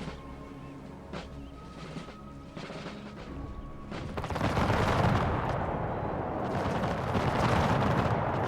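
A musket volley in the video game Empire Total War crackles out as a dense, rolling mass of gunfire. It swells from a quieter battlefield bed into a sustained, loud, rumbling clatter.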